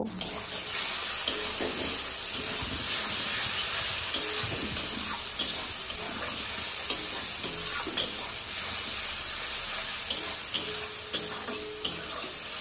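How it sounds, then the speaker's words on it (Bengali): Spices such as chilli powder and meat masala fry lightly in oil in a pan with a steady sizzle, broken by repeated scraping and stirring knocks against the metal, continuing throughout with no talk. "মশলাগুলো দিয়ে হালকা পরিমাণ ভেজে নিব।"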